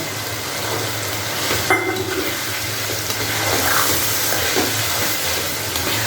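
Green peas tipped into a wok of spiced potato and paneer dalna with red and Kashmiri chilli powder, giving a steady close sizzle and hiss that rises and falls slightly as it fries, with no talking.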